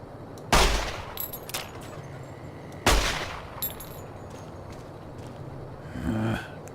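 Two loud, sharp gunshot blasts from the game Fallout New Vegas, spaced a couple of seconds apart, each with a short decaying tail, followed by a faint low rumble near the end.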